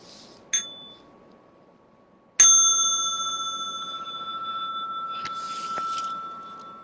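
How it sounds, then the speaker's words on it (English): A small meditation bell is struck twice, a faint first tap and then a clear, bright strike that rings out with a long, slowly fading shimmer in a quiet room, ending with a light clink. "Inviting the small bell for stretching and massage."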